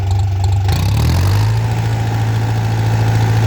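A DTZ 5404 tractor engine running steadily with a low, loud drone, shifting pitch as the throttle is opened slightly, then holding a constant hum; no speech over it.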